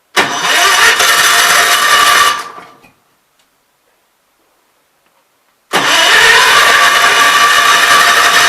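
Kohler K241 engine cranking and trying to run, two loud bursts of rough rattling engine noise separated by about three seconds of silence, close up with no talking.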